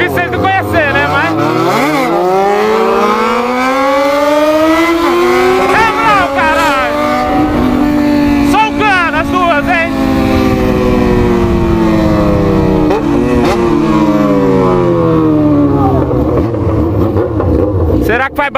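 Loud, close engines of two Yamaha XJ6 motorcycles with bare exhaust pipes roar and rev repeatedly at night, pitches climbing and overlapping, with sharp bursts of acceleration throughout and no pause.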